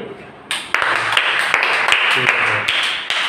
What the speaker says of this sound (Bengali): সুন্দর, ওর জন্য একটা হাততালি।